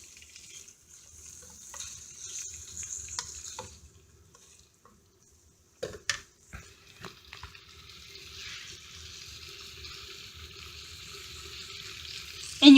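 Hot dogs and onions sizzling in a pan, a faint steady hiss and crackle close by with a few sharp clinks of a utensil, then the frying grows louder and denser toward the end.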